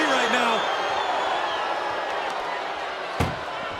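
A single sharp slam near the end as an ambulance door is shut in the WWE 2K25 wrestling game, cutting briefly through steady crowd noise and commentary.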